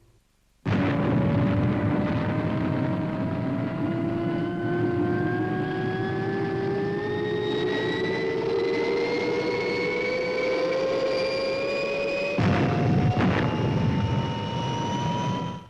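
Fireball XL5 spacecraft lift-off from a puppet sci-fi show: a loud, steady engine roar with a rising whine that climbs in pitch for about twelve seconds, briefly cuts and resumes near the end, with no talk.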